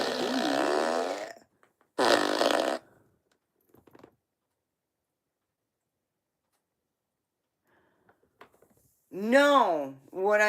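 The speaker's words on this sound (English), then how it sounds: "Now you can join the farting contest without shiting your pants." Loud, buzzing fart noises come in a couple of separate bursts with silent gaps between them, then a final warbling, wavering blast that ends the sequence.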